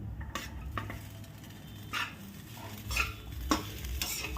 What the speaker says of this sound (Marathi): आता आपण त्याच्यामध्ये हा साबुदाणा घालू